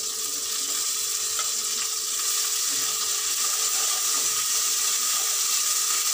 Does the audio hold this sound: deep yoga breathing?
no